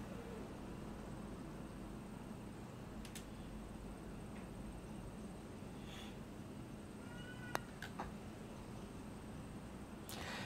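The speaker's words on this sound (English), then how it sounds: "Just as I swung there, that cat meowed" In The Golf Club 2 on PS4 Pro, a cat meows faintly a few times, with short high calls standing out over a steady low background hiss.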